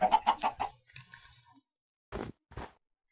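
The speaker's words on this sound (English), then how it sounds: "there's another chicken over there" Chicken clucking in the Minecraft video game: a quick run of four close, clear clucks, a soft murmur, then two more separate clucks after a short silence.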